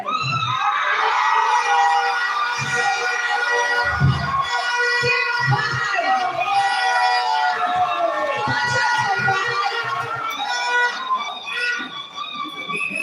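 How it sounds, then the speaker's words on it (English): A large crowd at a university student guild presidential debate shouts, screams and cheers loudly and continuously, with excited voices overlapping throughout. "Can I hear some shouts for Fred?"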